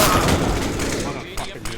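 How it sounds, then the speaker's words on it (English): AK rifle fire in Counter-Strike comes as brief sharp cracks under excited talk, with a few short shots clustered near the end. "Oh man, the sound of that AK."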